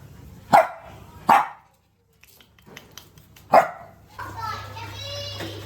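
A puppy in a home in Vietnam barks three times, sharp and close, two quickly together and a third after a pause, followed by a higher voice-like sound and a low steady hum.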